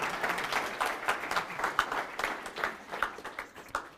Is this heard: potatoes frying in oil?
no